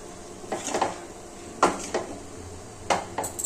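A spoon stirs poha with curry leaves in a pan with the stove switched off, making scattered scrapes and metallic knocks against the pan at an uneven pace.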